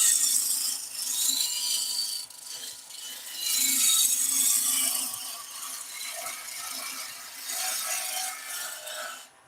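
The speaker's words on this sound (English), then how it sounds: "I'll stop the lathe" A wood lathe turns a cabriole leg while a tool shapes the spinning wood, giving a continuous rough scraping and rasping whir that swells and eases in long passes, close and fairly loud with no talking.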